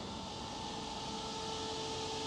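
A steady, even whir of the air conditioning fan in a 1966 Ford Mustang convertible running continuously, with a faint constant hum and a smooth broadband hiss and no breaks.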